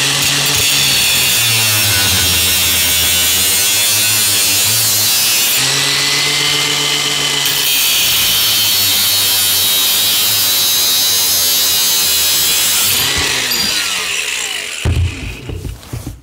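A loud, continuous high-pitched whine of a power tool cutting through a plastic pipe T-piece fitting, its pitch shifting as it bites, stopping abruptly at the end.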